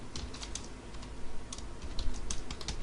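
Fast, uneven clicking of keys on a computer keyboard as Java code is typed, close and fairly quiet over a faint background hum, with no talking.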